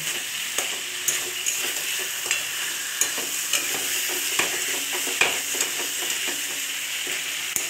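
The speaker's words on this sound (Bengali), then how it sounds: "এবার মাছ আর আলুটা দিয়ে দেবো। দিয়ে দিচ্ছি, এবার একটু ভালো করে নাড়ব।" Rohu fish and potato pieces being stirred into a frying masala for a curry, a constant sizzle punctuated by regular clinks and scrapes of a ladle against the pan.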